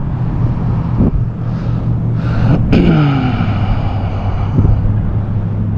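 A Traxxas Raptor R Ultimate Edition RC truck runs at full throttle across a parking lot, its motor a steady loud whine with a sharp pitch sweep midway as it kicks sideways, heard close and continuous.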